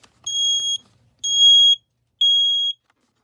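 A modern smoke alarm under test sounds three loud, piercing electronic beeps, each lasting about half a second and separated by even gaps, close to the listener and otherwise alone.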